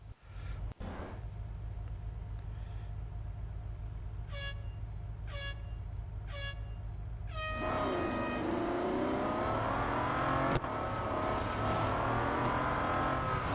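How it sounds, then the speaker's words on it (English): Race car engines in the Real Racing 3 video game at the Porsche test track short circuit: a steady engine drone with short repeated tones, then a louder rising rev as the cars accelerate, with no talk. "head-to-head around the short circuit at the Porsche test track."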